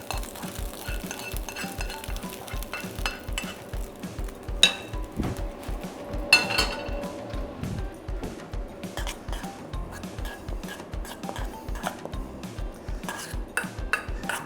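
Caramelized onions go into a pan during cooking, bringing steady metallic clinks and scraping of utensil against pan with a few sharper knocks, close and moderately loud, with no talking.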